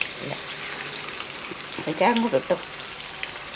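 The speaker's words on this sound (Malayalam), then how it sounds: "ആ എണ്ണയൊക്കെ ചൂടായിട്ടുണ്ട് ആ മത്തി അങ്ങോട്ട് പറക്കിയിടുക" Sardines being fried in hot oil for a sardine pickle give a steady, close sizzle running through the whole clip, with brief voices partway through.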